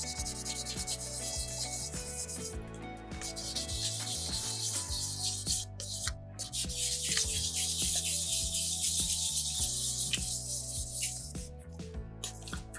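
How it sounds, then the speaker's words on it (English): Sandpaper rubs back and forth over a soapstone carving from a carving kit, a steady close scratchy hiss with continuous strokes and no talking. "So to go with the grain for the soapstone, you can just sand it from any angle."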